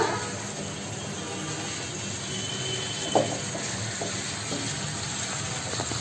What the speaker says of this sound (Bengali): মশলার সাথে বরবটি আর আলু কষিয়ে নিচ্ছে